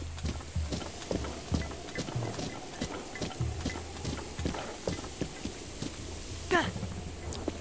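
Steady rhythmic clip-clop of a horse's hooves in The Legend of Zelda: Breath of the Wild, moderately close and fairly quiet, with faint game ambience and a brief chime near the end.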